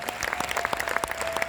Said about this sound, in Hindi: एक बार फिर से जोरदार तालियां उठे सरदार प्रताप फौजदार के लिए